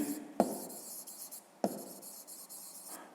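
A hand writes an answer on paper, two sharp pen taps on the page each followed by a soft scratchy stroke, close and quiet with no voices.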